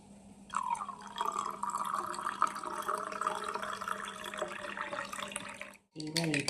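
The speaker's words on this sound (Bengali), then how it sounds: "এরপর আমি দুধ দিয়ে দিলাম" Cooled milk pours steadily onto watermelon for a shake, a continuous close liquid splash lasting several seconds before a brief pause and a few clinks.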